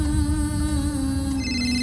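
A phone rings with an incoming call, a loud continuous electronic ringtone with steady tones and no voices.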